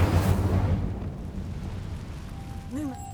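Incendio fire spell cast in the video game Hogwarts Legacy, a loud whooshing burst at the start that fades into a low rumbling tail, followed by a short chime near the end.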